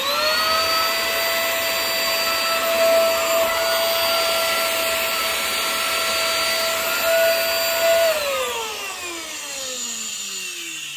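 A vacuum cleaner with a failing motor runs loud and steady with a high whine, then the pitch slides down as it spins down near the end.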